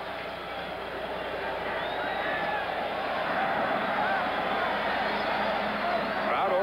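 Stadium crowd murmurs and roars steadily before kickoff of the 1977 Gator Bowl college football game with Pittsburgh, a dense, continuous hubbub filling the background at moderate level with no clear breaks.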